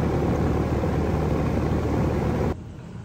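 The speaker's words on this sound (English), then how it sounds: "As soon as I put this fuse in, my condenser should turn on." An AC condenser unit running after its fuse is put in, giving a steady, loud mechanical drone with a faint high whine. It holds evenly, then drops sharply to a quieter hum near the end.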